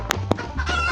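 Cartoonish chicken clucking from the Stickman Party video game: two short, sharp clucks close together over a steady low game-sound background, all within under a second.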